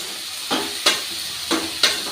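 Beans and carrots sautéing in oil in a pan, a continuous close sizzle broken by four evenly spaced scraping stir strokes, roughly two per second, with no voices.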